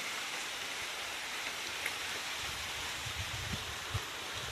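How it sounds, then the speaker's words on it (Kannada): Heavy rain pours down steadily on a farm field, a dense even hiss with faint scattered drips and low thumps. "ಸಖತ್ ಮಳೆ ಅಂದರೆ ಸಖತ್ ಮಳೆ"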